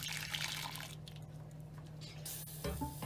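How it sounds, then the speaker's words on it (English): Hot milk is poured from a pan into a bowl, giving a short, soft liquid stream with light splashing, close and fairly quiet, and no one speaking. "So I'm going to pour it into this bowl."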